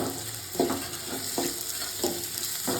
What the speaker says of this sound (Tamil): அரிஞ்சு வச்சுருக்க வெங்காயத்தை போட்டு வதக்கணும்